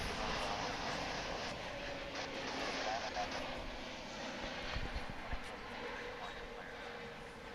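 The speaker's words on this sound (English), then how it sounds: "that was American Flight 1537 coming in from Las Vegas, an A321, right here on Runway DFW" An American Airlines Airbus A321 arriving from Las Vegas lands at Dallas Fort Worth airport, its jet engines a broad, steady roar heard from a distance that slowly fades as the aircraft passes.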